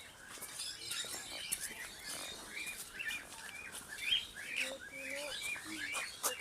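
A lutino cockatiel at a zoo chirps in short, repeated high calls amid a steady chorus of many other birds, moderately distant and faint, with some people talking in the background.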